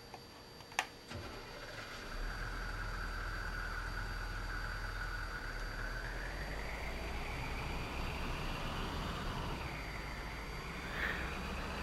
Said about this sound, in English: And this is the other engine choice.